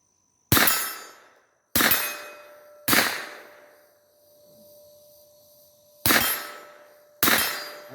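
Five sharp gunshots strike steel targets at an outdoor private shooting range. Each crack is followed by a bright, ringing metallic clang that slowly fades, with a longer quiet gap between the third and fourth shots.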